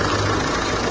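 A car engine running steadily right after a restart, a brief close idle with an even, rough hum.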